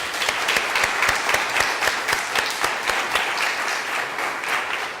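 A church congregation applauds together, a dense, even wash of many hands clapping with a faintly rhythmic pulse, filling the room steadily before beginning to thin at the end.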